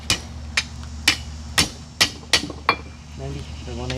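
Sharp metallic hammer blows strike a lawn mower blade on an anvil, about seven evenly spaced ringing hits close by, with a low steady hum beneath and brief speech near the end.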